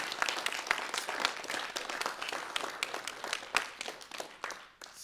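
Audience applause at an ethics center anniversary performance event, steady dense clapping throughout with a few sharper individual claps, moderately loud and without talk.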